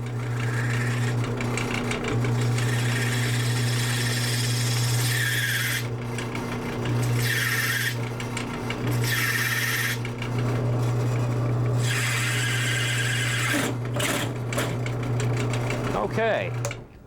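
A larger drill bit bores slowly through a wooden pen blank, a steady whirring hum with a constant low tone running throughout, broken by short rising and falling grinding bursts as the bit cuts, with brief talk near the end.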